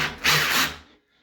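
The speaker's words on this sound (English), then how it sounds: "the quickest way of getting these in is put your drill on speed 1 and just wind them in with your drill" A cordless drill set on speed 1 briefly whirs as it winds a fixing straight in, a short close burst of motor noise that cuts off abruptly into near silence.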